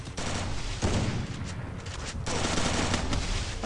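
Rapid automatic gunfire from the Free Fire video game rattles in dense, loud bursts, pausing briefly between volleys before resuming.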